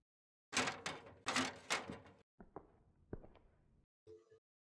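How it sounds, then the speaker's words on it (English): A door in a Minecraft horror map is tried without opening. Several loud clattering knocks come close together, followed by quieter scattered clicks and thuds. "The door doesn't open."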